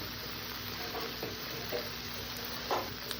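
Spice masala being sautéed with a little water in a pan for a brinjal dish, a steady soft sizzle with a few stirring scrapes and clinks, fairly faint and close.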